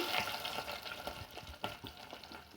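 Tempering spices fry in hot oil in a pan for ulava charu, a soft, close sizzle broken by light crackles and stirring scrapes, quiet overall.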